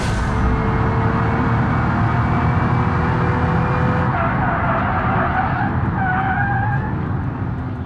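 Car tires skidding and squealing under hard braking in the BeamNG racing game, a loud continuous roar of engine and tire noise throughout with a sliding screech near the end.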